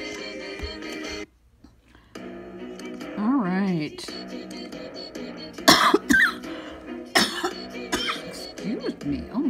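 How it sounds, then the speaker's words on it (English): A woman coughs a few times in short bursts, close to the mic, between stretches of her own speech and some game music in the background. "I hate coughing when I make it in video"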